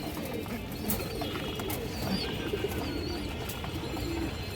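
Lively fancy pigeons coo together, a steady chorus of low, repeated murmuring calls mixed with faint chirps across a dense, continuous bed of flock noise.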